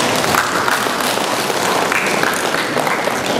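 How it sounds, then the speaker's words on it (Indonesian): A crowd applauds continuously, a dense wash of clapping hands at moderate distance with no pauses. "Tepuk tangan buat adik saya"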